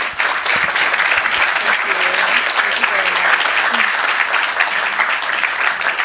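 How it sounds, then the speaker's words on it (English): A city council chamber audience applauds staff of the Communication Center, sustained full clapping from a large room at even loudness, with some voices murmuring underneath. "Let's give them a round of applause"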